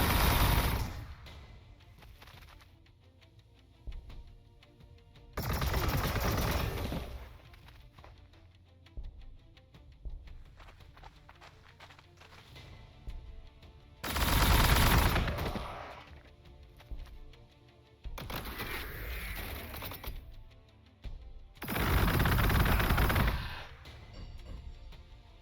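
Aircraft gunfire in Warhammer 40,000: Gladius – Relics of War, T'au faction: four or five loud bursts of rapid, rattling automatic fire, each a second or two long, separated by quieter stretches of game sound.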